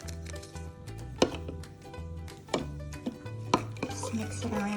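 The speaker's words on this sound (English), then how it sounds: "Just mix it around." Instant yeast mixed into lukewarm milk in a bowl with a utensil, heard as a series of irregular clinks and scrapes against the dish, close by, with no voices.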